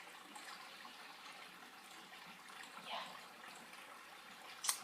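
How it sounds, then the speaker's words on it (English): Water runs from a nearby pond, a faint, steady trickle in the quiet background with a small splash near the end. "That's why you always hear water running in the background."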